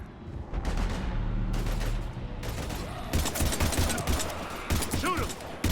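Gunfire in the Mass Effect 3 video game during a fight with husks: dense bursts of rapid shots and booming blasts mixed with shouted voices, loud and near, with a heavy low rumble under the opening seconds.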